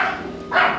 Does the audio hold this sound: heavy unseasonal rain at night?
no